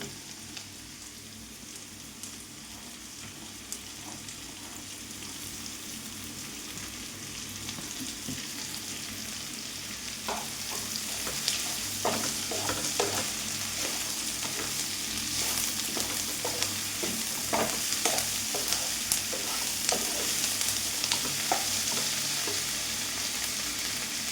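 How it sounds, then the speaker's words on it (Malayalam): Drumstick pulp and sliced onions stir-frying in a pan, with a steady close sizzle and scattered scraping stirs that grow louder in the second half; no one speaks. "ഈ മുരിങ്ങക്കായ ഇതിനകത്തിട്ട് തന്നെയാണ് വാട്ടിയിരിക്കുന്നത് അപ്പോൾ ഞാൻ മുരിങ്ങക്കായ ഈ സവോളയൊക്കെ ഇട്ട് കൊടുക്കാം"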